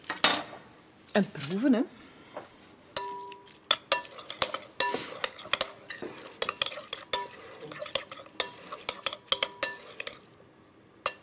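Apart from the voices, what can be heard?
stirring celery soup in a pot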